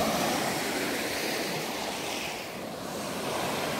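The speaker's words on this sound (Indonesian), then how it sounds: "Pantai ini. Pantai Amet." Ocean surf rolls onto the beach at Amed in Karangasem, Bali: a steady, close wash of breaking waves with a light wind rush, and no voices.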